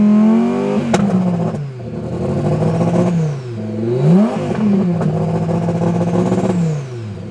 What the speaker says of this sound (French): Tu vois, ça c'est le son du rolling anti-lag.